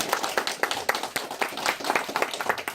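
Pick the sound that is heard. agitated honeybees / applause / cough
applause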